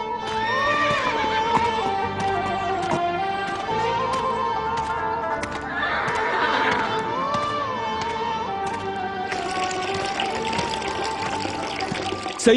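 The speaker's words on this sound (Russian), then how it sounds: "Эти привязанные лошади не могут сами себя напоить." Tied horses neigh and whinny a few times in an animated children's tale, with orchestral music playing steadily underneath.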